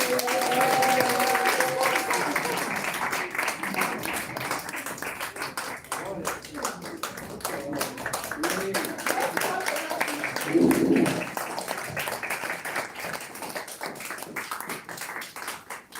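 Sustained applause from a crowd, steady clapping throughout with voices mixed in underneath.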